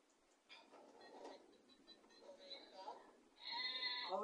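A sheep on a farm gives a clear, wavering bleat near the end, after a stretch of softer, scattered vocal sounds.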